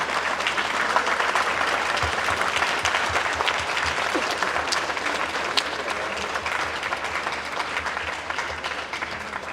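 A standing audience at a Lahore Smart City sales partners meet-and-greet claps loudly and continuously, a dense, even wash of applause lasting throughout with no talking.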